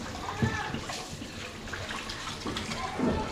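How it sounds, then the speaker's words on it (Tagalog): Strong water runs steadily from a tap during washing-up at a house in Muñoz, Nueva Ecija. It is a continuous, fairly loud rush with faint voices in the background. "Malakas yung tubig."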